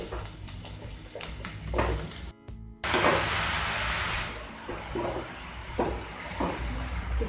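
Hot mustard oil sizzles loudly as mushrooms drop into a pan, a steady frying hiss close by that continues with faint clatter of utensils.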